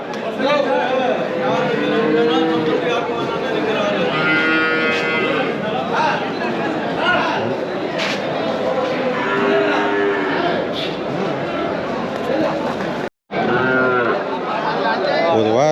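Cattle moo repeatedly at a village livestock market, loud overlapping calls over a dense background of crowd chatter and people talking nearby.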